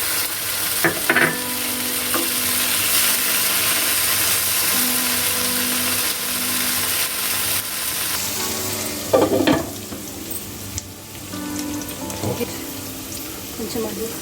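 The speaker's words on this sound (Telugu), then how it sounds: "టమాటో వేస్తున్నాము." Tomatoes drop into hot oil with onions for a prawn masala curry, a loud steady sizzle with clattering stirs and a sharp burst midway.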